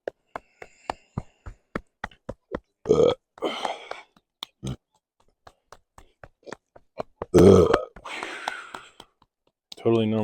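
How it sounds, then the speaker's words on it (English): Someone burps loudly a couple of times during a qigong movement practice, with short clicks and soft taps and breaths in between over a quiet background. "Totally normal to burp."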